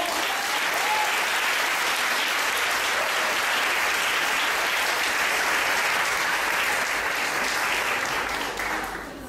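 A church congregation applauds, dense continuous clapping from a large crowd that stays loud and even before tapering off at the end.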